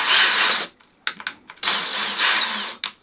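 A power drill slowly drives screws into pre-drilled timber, whirring close up in bursts: a long run, several short stuttering pulses, another long run, then a brief final blip.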